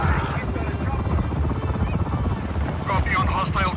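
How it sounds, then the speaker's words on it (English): Helicopter in the Just Cause 4 video game, a loud, steady rotor drone and buzz running throughout, with radio-style voices speaking over it. "Helicopter inbound."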